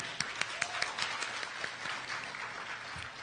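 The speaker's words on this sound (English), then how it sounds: "please give a round of applause for Texas Instrument." A round of applause from the audience at an annual youth excellence recognition ceremony: fairly soft, steady clapping with a few sharper individual claps standing out, continuing throughout.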